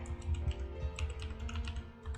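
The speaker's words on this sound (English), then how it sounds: "Reach for the keyboard." Quiet, steady typing on a computer keyboard during a relaxed livestream, a continuous patter of soft key clicks close up with faint background hum and no talking.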